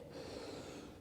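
A deep, fairly loud breath in through the nose during a yoga child's pose, one long airy inhale with a snort-like rush, no talking.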